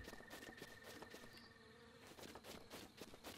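Bees buzz steadily in the video game Zelda: Breath of the Wild, a continuous droning hum with a faint high whine layered over soft ambient game sound, moderate and close.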